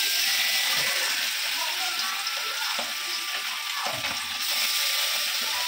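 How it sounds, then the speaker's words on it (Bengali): Fish frying in a pan gives off a steady, hissing sizzle that fills the scene, with a few soft clatters and shifts in the spatter, heard up close. "আর এইদিকে আমি মাছ ভাজি করে লইতেছি"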